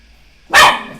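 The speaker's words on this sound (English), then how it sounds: "Oh, sorry, that's my dogs." One loud, sharp bark from a dog rings out close by and decays briefly into a quiet room, with no other sounds before it.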